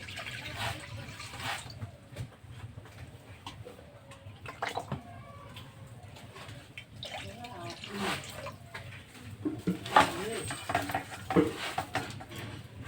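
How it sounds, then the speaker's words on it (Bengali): Water is poured into a cooking pot on the stove, a soft, uneven trickle and splash with a few light clinks of metal, fairly quiet and close. "প্রথমে আমি একটু জল দেব।"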